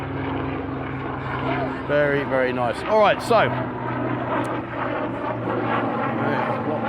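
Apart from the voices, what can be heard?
helicopter flying overhead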